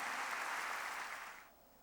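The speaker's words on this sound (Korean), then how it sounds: "박수로 하나님께 영광을 돌려야 할 것입니다" A church congregation at a Korean worship service breaks into brief, dense applause that holds steady and then fades away to near silence.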